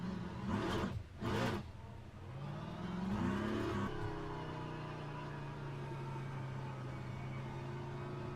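A race car engine revs in the racing game Le Mans Ultimate, two quick rising blips followed by a sustained whining drone that fades into a steady hum, heard alone.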